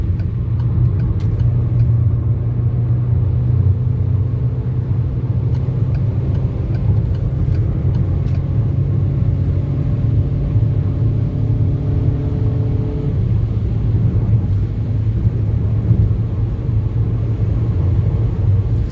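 A 1600cc Citroen C4 Picasso cruises along a road with a steady, loud engine drone and road rumble that stays constant throughout, with no voices.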